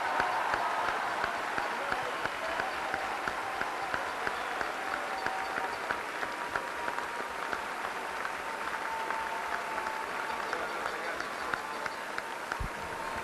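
Sustained crowd applause fills an arena after the 2010 Atlantic Hockey Tournament runners-up trophy is presented to Sacred Heart, a dense steady wash of clapping from a large audience with scattered cheers, lasting throughout.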